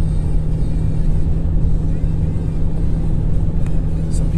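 Steady car cabin rumble with a low droning hum and constant wind buffeting, a vehicle driving a rural winter road with a west wind blowing across it; someone speaks over the noise.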